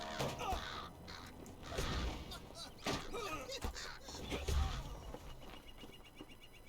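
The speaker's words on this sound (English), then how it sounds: "It sounds like crows." Crows cawing in the fantasy MMO game Lord of the Rings Online, sharp harsh calls repeating irregularly over a busy game soundscape with thuds and clatter, moderately loud.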